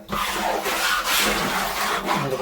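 Grime is scrubbed from the inside of a long-neglected household water tank: rough, repeated rubbing and scraping strokes, close and continuous, with no voices.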